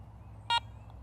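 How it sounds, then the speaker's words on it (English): A Garrett Ace 400 metal detector gives a single short, clear electronic power-on beep, loud and close, over quiet room tone. "To power on the detector, simply press the power button."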